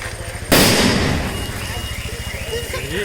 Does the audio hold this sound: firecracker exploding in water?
yes